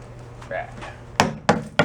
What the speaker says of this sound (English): we beat on it with a hammer